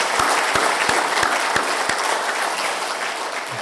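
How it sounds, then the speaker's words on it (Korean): A church congregation applauds warmly to welcome a pastor's wife, a dense continuous wash of clapping from many hands filling the room, with a few low thumps underneath and a faint voice near the end. "저희도 사모님께도 큰 박수로 멀리까지 오셨는데 환영의 인사 드리겠습니다"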